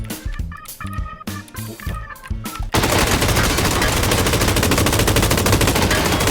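Gunfire in a video game: a few choppy, uneven bursts give way to a long, loud, unbroken stream of rapid automatic fire up close.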